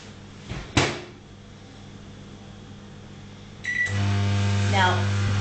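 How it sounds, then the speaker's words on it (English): A door clicks shut, followed after a pause by a beep and the steady hum of a microwave running, loud and close. "I'm going to put it in the microwave."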